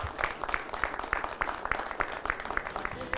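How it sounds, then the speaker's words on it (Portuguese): A studio audience claps in a brisk, regular rhythm, a steady pulse of beats at moderate distance. It continues for a few seconds with no speech over it. "gostaria de uma salva de palmas para todos eles"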